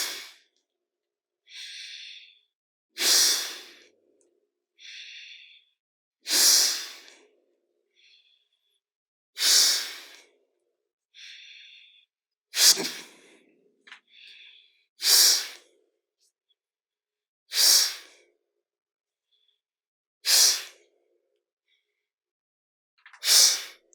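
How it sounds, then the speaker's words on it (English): Forceful yoga exhales through one nostril repeat at a steady pace, each a sharp close-up burst of breath. Softer, quieter inhales fall between them, and nobody talks. "I'm going to close the right nostril, and I'm going to blow out the left as if you were blowing out a tube"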